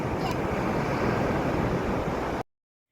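Ocean waves surge and wash onto a beach in Bali, a steady broadband roar of surf mixed with wind buffeting the microphone, continuous for about two and a half seconds before cutting to silence.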